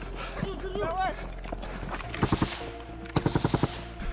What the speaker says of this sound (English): Then they opened fire from machine guns inside.